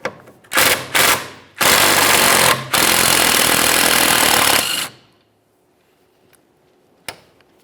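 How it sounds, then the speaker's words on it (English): A power tool with a 13mm socket spins off the emergency brake cable anchor bolt on the rear subframe of a 2012-2018 Nissan Altima: two short rattling bursts, then two long loud rattling runs, followed by quiet and one faint click. "we're going to have to remove the anchor bolt that holds our emergency brake cable to our rear subframe. We'll use a 13mm for this"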